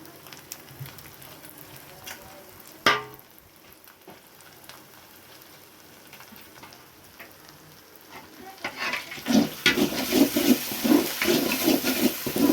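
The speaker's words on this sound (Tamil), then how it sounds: "இஞ்சி பூண்டு பேஸ்ட்டு போட்டு அதனோட பச்சை வாசனை போகிற வரைக்கும் நல்லா வதக்கணும்" Ginger garlic paste sautéed in a pan for a field crab gravy: after a quiet stretch with one metallic clink, a steady, growing sizzle builds and stays loud through the end, with no talking.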